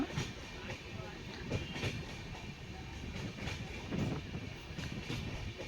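A train rumbles steadily along the rails with rhythmic clickety-clack of wheels over joints, heard from inside at a moderate, continuous level, on a morning run from Yeshwanthpur to Kukke Subramanya in the monsoon.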